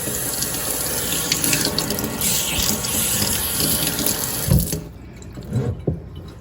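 A kitchen faucet runs steadily into the sink while it is rinsed after scrubbing, a loud continuous splash of water that cuts off abruptly, followed by a few faint clunks.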